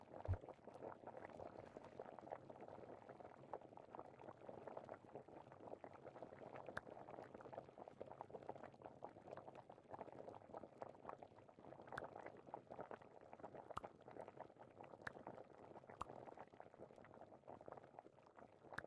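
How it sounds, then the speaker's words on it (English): Liquid simmering slowly over low heat, a faint, steady stream of small bubbles popping and burbling continuously for a long stretch. "Do not overboil. Listen to the bubbles."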